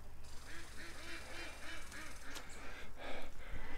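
Ducks quack in a rhythmic run of calls close by near a dried, muddy creek bed, with some honking mixed in and a few louder bursts toward the end.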